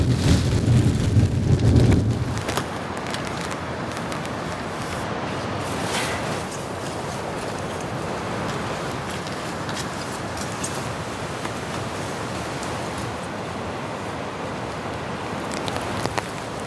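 Steady wind buffeting a microphone with rain pattering throughout while camping in a rainstorm, a louder low gusty rumble at the start, then a constant broadband rush.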